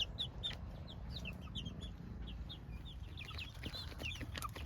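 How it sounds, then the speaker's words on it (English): Pearl White chickens on a farm cluck and chirp in a rapid, busy chorus, fairly close but soft, over low background rumble. "these chickens are pearl whites, and they're gonna lay white eggs"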